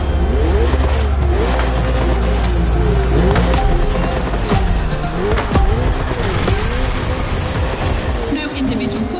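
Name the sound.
race car engine revving in The Crew Motorfest video game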